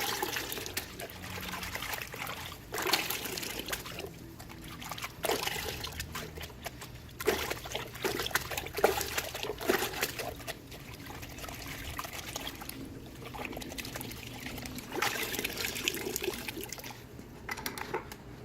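Water from a garden hose trickles and splashes through a car air filter during a rinse, a steady close pouring with uneven spatter and small bursts, no talking.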